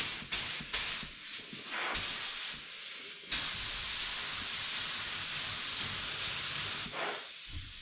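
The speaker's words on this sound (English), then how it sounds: "gotta get the air pressure right on the gun here. Get this sprayed." A paint spray gun sprays red candy paint in a steady broad hiss, broken by a few short bursts at first, then held as one long continuous spray before cutting off.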